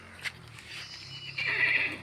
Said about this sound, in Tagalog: May kabayo oh.